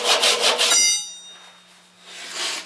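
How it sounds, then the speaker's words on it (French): A few quick back-and-forth strokes of a small Japanese hand saw through wood, then the rasping stops and a faint ringing tone lingers in a quiet room. "Alors, petite scie japonaise."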